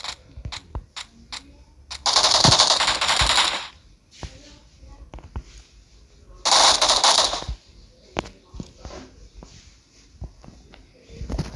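Gunfire rattles in a mobile shooter video game. Two loud, sustained bursts of rapid automatic fire are separated by scattered single shots and clicks, with little or no talk.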